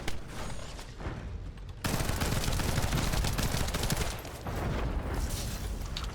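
Sustained automatic gunfire in the shooter video game The First Descendant, dense rapid bursts that pause briefly then resume louder, continuous crackling volleys close up with no clear talk.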